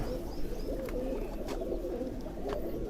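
Racing pigeons coo softly at close range, low murmuring calls running steadily through the clip over a dense bed of ambient noise, with a few faint higher chirps.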